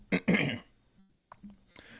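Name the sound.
throat clearing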